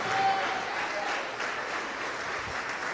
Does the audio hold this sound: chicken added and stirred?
no